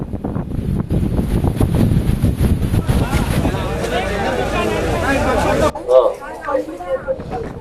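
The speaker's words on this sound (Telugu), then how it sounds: "విజువల్స్లో మనం చూస్తున్నామా ఉరుములు, మెరుపుల సౌండ్, అలాగే గాలి, వాన." Strong storm wind gusts and rain during flooding in Mylavaram, NTR district, loud buffeting noise with a voice talking over part of it and a sharp cut near the end.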